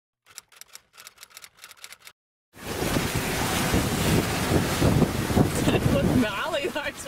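Ocean waves and strong wind buffet a 50-foot catamaran at sea off the northern tip of Australia. A few quick clicks come first, then a loud, steady roar of wind and surf fills the rest.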